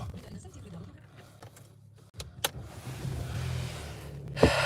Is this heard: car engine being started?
yes